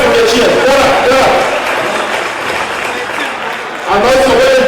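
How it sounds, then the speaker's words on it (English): Festival crowd in a Melbourne hall applauding the organizing committee, a sustained wash of clapping that dips midway and swells again near the end. "give them a big round of applause"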